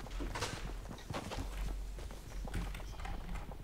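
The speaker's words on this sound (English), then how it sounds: "I think those are footsteps." Soft, steady footsteps in the video game Fortnite patter along with a faint rhythmic thud, set against a constant background hum, fairly quiet throughout.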